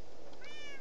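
A single short, high meow from a cat in Minecraft with the Tekkit modpack, clear and close over a steady background hum.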